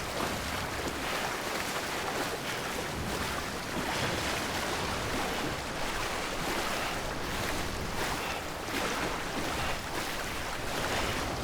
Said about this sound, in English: I think I'm walking into the water